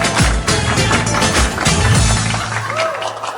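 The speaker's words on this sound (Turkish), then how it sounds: "Bravo alkışlar." Clapping and cheering at a Turkish family birthday party right after the birthday song, dense and close with voices mixed in, tapering toward the end.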